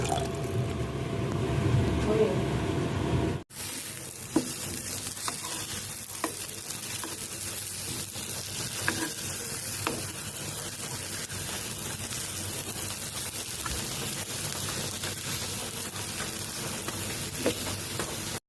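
Khichuri cooking in plenty of oil in a pot, a steady close sizzle and bubbling with occasional stirring scrapes that runs throughout, a brief cut near the start.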